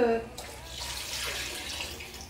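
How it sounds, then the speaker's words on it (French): Water pours from a tap into a cooking pot of vegetables, a steady close stream that follows a brief clink. "Je vais rajouter encore un petit peu d'eau"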